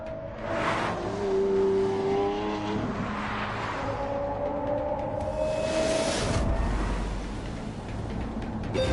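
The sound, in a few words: Eastern European electric supercar accelerating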